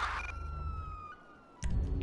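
A police car siren wails in the GTA video game with a steady electronic tone, then cuts out abruptly. A low thump follows after a brief quiet gap.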